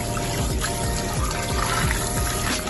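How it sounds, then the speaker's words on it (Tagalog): Tap water runs steadily into a kitchen sink while raw meat is rinsed under it for a tomato potato soup, a continuous splashing trickle with small irregular spatters and no talking. "Ngayon ay banlawan naman natin."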